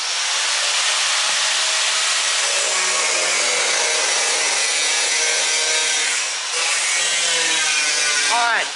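A cutting wheel grinds steadily in a workshop, a harsh, hissing, high-pitched whine that stays loud and continuous, dipping briefly before resuming with a rising screech near the end.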